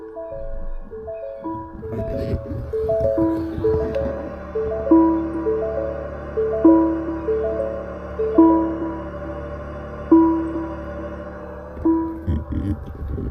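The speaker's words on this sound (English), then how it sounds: "I'll go ahead and put it in reverse so you can hear the new sound" A 2026 Ford Maverick Hybrid pickup sounds its new reverse warning tone, a loud, lower-pitched melodic chime repeating in a slow, regular pattern close by, with no one talking over it.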